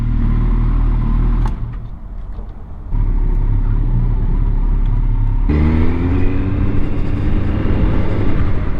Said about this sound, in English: The bike sounds powerful, throaty, but it's not an annoying high volume sound.